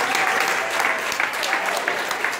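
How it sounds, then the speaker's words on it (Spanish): Warm, dense applause from an audience at a tribute event, a steady wash of many hands clapping, loud and even for its short length with no voices on top. "así que un aplauso para ellos, por favor."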